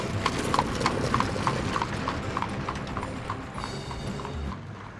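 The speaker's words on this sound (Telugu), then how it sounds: "అతన్ని ఎలాగైనా పట్టుకొని తీసుకువస్తాను అని ఆ కపాలి చెప్పి గుర్రం మీద బయలుదేరుతాడు" Horse hooves clip-clop in a steady rhythmic gallop as a sound effect for a Telugu moral story, loud and continuous over a low rumbling background.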